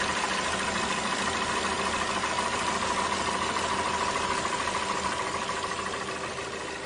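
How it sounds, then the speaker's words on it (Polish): A disassembled Japanese car engine idles steadily and loudly nearby with a constant mechanical hum and vibration, fading slightly toward the end. "To jest rozebrany japoński silnik."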